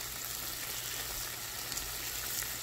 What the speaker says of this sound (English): nothing better than some good teriyaki meat cooking on the griddle, baby. Yum. Slow and sizzling.